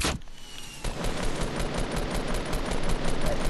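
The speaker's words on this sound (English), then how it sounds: "Is that Z-Bunny shooting?" Rapid bursts of automatic gunfire from a Fortnite match crackle densely and continuously, loud and fairly close, after a brief sharp shot at the start.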